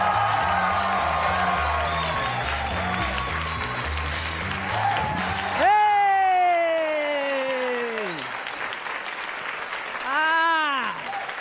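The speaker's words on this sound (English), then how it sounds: "Warm round of applause for Dave Temple." A New York stand-up comedy crowd welcomes a comedian with sustained applause, rising whoops and cheers over a short stretch of band music, all loud and close.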